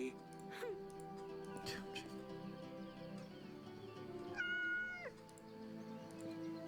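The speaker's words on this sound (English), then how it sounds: "I'm gonna go pet my cat." A cat meows in a fantasy role-playing video game, a couple of short cries rising above a quiet bed of game music and ambience.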